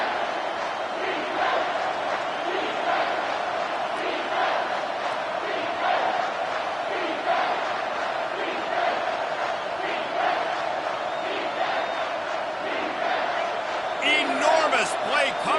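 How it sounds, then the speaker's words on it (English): A stadium crowd roars steadily through a late-game football play, a loud, dense wash of cheering that swells near the end, with a voice talking over it. "this crowd is bringing down the house"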